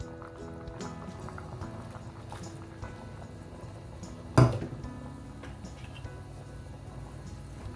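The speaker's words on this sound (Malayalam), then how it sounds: "ഇതൊന്ന് തിളച്ച് വരാൻ തുടങ്ങിയിട്ടുണ്ട്." Beef stew with frozen green peas in a pot starts to boil, giving a steady low bubbling simmer with one brief clunk partway through and no voices.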